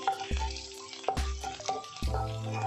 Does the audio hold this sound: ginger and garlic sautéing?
yes